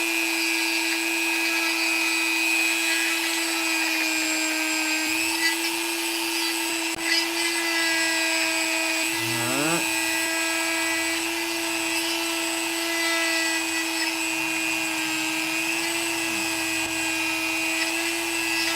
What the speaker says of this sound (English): we got to Dremel a little more